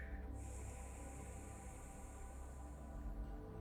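A single long, soft exhalation through the right nostril during alternate nostril yoga breathing makes a steady airy hiss for about three seconds, close and quiet.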